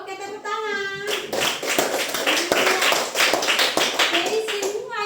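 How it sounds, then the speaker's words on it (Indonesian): A group claps hands in an uneven burst of sharp slaps, mostly adults with a voice, following a drawn-out sung or spoken tone, with voices carrying through the applause. "Oke, tepuk tangan."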